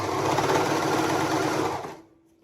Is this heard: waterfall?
no